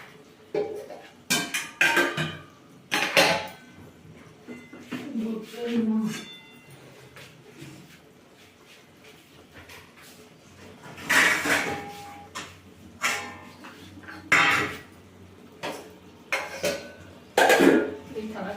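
Cooked yardlong bean chochchori scraped from a pan onto a metal plate, with a run of sharp metallic clinks and scrapes coming in bursts, close up and fairly quiet, and a voice speaking between them.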